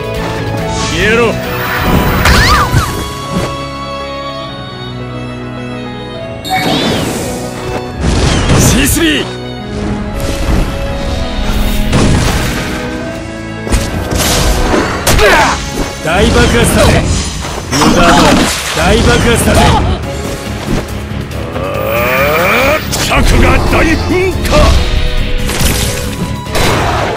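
Repeated booming blasts, crashes and smashing hits from special attacks in the Naruto Online game, dense and loud throughout, with voices shouting over the battle.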